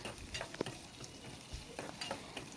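Crushed garlic, cumin and onions sautéing in a pan make a quiet, low crackling sizzle, with soft intermittent scrapes and taps of a stirring spoon.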